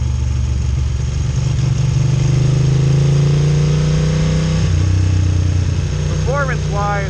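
A Bimota Mantra motorcycle engine runs loud and close with a steady low drone and a slight rise and fall in pitch, and a brief whine near the end.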